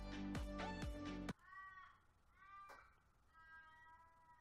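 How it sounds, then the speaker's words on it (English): Several harsh caws from crows, first a loud, close run of three or four rapid calls, then quieter, more distant answering caws spaced across the following seconds. "How annoying are crows, man?"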